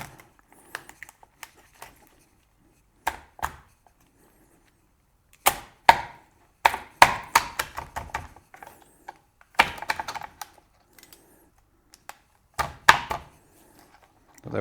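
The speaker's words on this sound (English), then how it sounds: "So we go in there with the knife. Cut it down like that" Kitchen knife cutting a lobster in half through the head, heard as sharp, scattered crunching thuds and clicks in short clusters against near silence.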